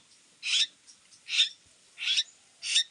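A pet bird begging for food gives four evenly spaced, loud, shrill raspy calls, each about a quarter second long, with short quiet gaps between them and no voices.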